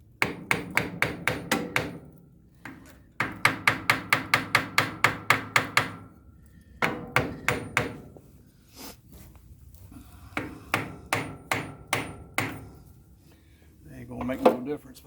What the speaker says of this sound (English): A little brass hammer.